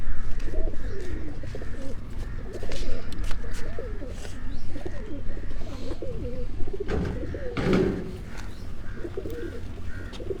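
Pigeons coo repeatedly in low, throaty bursts throughout, with other birds chirping faintly and a brief rustle or clatter near the end.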